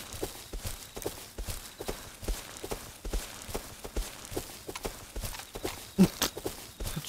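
Horse hooves clip-clopping in the video game Rust, a steady walking rhythm of close, moderately loud hoof beats running throughout with occasional faint voices.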